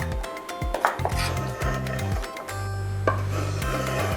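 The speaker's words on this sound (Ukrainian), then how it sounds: "Запечена картопля дуже легко нарізається і гарно тримає форму." A knife slices through soft baked potato and vegetables onto a wooden cutting board, making a series of close, regular cutting taps and scrapes over a low background hum.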